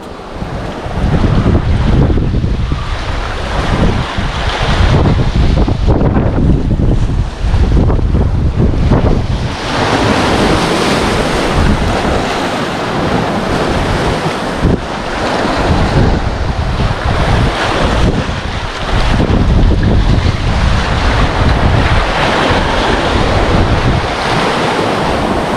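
Strong northeast monsoon wind at sea, heavy gusts buffeting the microphone over crashing waves and surf around a small boat, loud and continuous with surging bursts.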